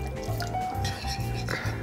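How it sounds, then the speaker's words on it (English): Water is poured into tomato paste for a cabbage recipe's sauce, giving a brief, soft, close trickle and splash with faint clatter. "I'm just gonna take some tomato paste and I'm gonna add some water and some spices"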